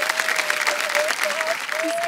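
A studio audience on the KBC quiz show claps steadily to welcome Ranveer, a dense continuous applause with a faint sung or tonal voice running beneath it.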